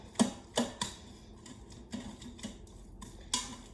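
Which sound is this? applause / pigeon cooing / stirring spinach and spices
stirring spinach and spices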